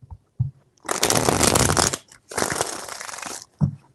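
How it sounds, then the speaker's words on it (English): Tarot cards being shuffled by hand in two long, loud, crisp riffling bursts separated by a short pause, with soft taps at the start and end, no talking. "3 shuffles."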